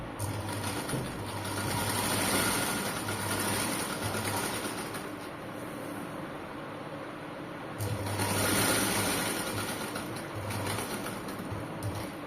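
A sewing machine runs steadily while stitching the folded hem of a saree, its motor whirring in two sustained bursts with a brief easing between them, fairly close and with no talk.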